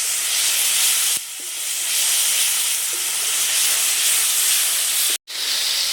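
Chopped tomatoes hit hot oil and fried spices in a pan, giving a loud, steady sizzling hiss that dips briefly twice and then surges back, with no voices.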